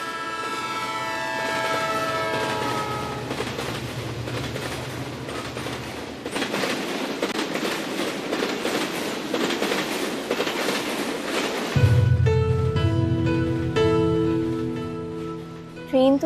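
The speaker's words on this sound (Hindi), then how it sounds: "ट्रेन तो चली गई, अब हम कब जाएंगे?" A train pulls out of a station in a Pakistani drama scene, with steady rolling rumble and clatter of carriages, a low engine drone and tonal horn-like hum returning near the end, continuous and fairly loud with no talk.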